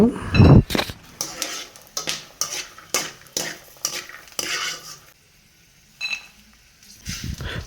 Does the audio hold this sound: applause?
no